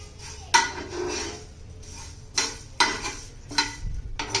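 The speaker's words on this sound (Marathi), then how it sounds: "मध्यम आचेवर पॅन तापलेला आहे, तर आपण पहिला याच्यात खडा मसाला भाजून घेऊया।" Whole spices dry-roasting in a heated pan over medium heat rattle and scrape in several distinct bursts as they are stirred and tossed, with quiet gaps between.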